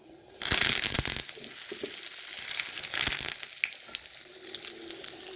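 Curry leaves crackle and sizzle loudly in hot oil with mustard seeds and urad dal, tempering for tomato chutney; a sharp burst of frying at the start settles into steady close spitting and popping, with no talk.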